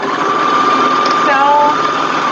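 A sewing machine stitches a seam in a steady, fast, close whir that holds for the whole stretch.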